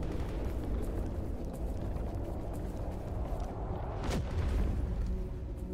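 Gunfire in the video game S.T.A.L.K.E.R. Anomaly sounds distant, with one sharp crack standing out over a continuous low, rumbling game ambience.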